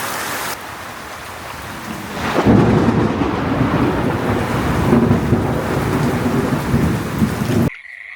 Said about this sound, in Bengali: গরমের পর এই শেষ রাতে হঠাৎ এরকম বৃষ্টি